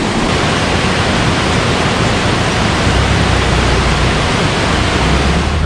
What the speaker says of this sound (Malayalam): നല്ല അതിശക്തമായ വെള്ളച്ചാട്ടം ശരിക്കും പറഞ്ഞാൽ നിറഞ്ഞൊഴുവാണ്